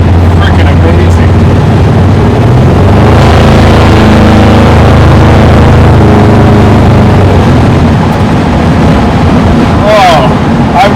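A Skip White Performance 383 small-block Chevy engine in a muscle truck makes a loud, sustained rumbling roar with heavy wind buffeting, and a voice is heard over it.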